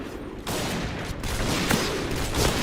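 Rapid gunfire in the shooter game Point Blank while sniping with an SSG-69 or M200, a dense burst of overlapping shots with a loud sustained background.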